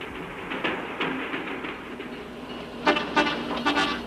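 A descending train rumbles past at a distance at Pampa de Arrieros, with faint rhythmic clacking, a few sharper knocks toward the end, and no voices.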